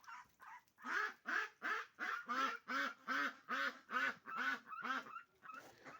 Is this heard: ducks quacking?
yes